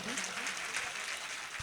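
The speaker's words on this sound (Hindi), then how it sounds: "एक बार जोरदार तालियां बजा दें" An audience claps at an Urdu poetry gathering in an auditorium, a short burst of dense, crowded applause with some voices mixed in.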